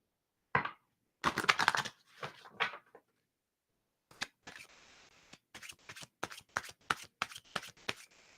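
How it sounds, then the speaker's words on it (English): Tarot cards being shuffled: quick bursts of riffling and flicking, a few clustered at first, then a pause, then a steadier run of sharp slaps and flutters, close and crisp with no talking. "So let me just get these cards ready."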